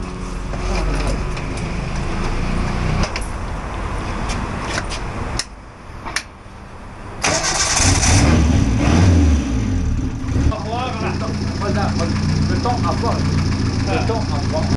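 A car engine is started and settles into idling, driving the alternator belt, a steady mid-low hum with a brief rise in revs, heard close under a voice talking.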